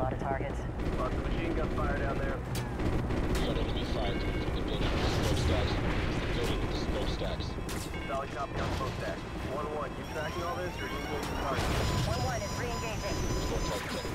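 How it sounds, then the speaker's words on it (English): Machine-gun and heavy cannon fire rattle through an aerial gunship mission in Call of Duty: Ghosts, with dense, repeated bursts and booming impacts over fourteen seconds while players talk over the din. "Lots of machine gun fire down there."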